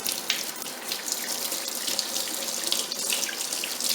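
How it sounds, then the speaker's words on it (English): Water running steadily from a faucet into a sink, a continuous bright splashing hiss with no speech. "If you are near a faucet, wash the exposed area with water, lots of it"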